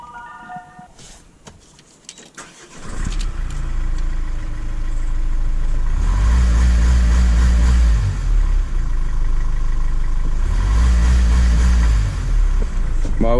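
A Renault Master van engine with a knocking fault idles, then is revved twice in long, loud rising swells that fall back to idle, after a brief electronic beep at the start.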